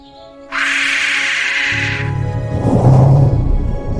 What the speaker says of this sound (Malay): Murai menjerit dengan suara lantang.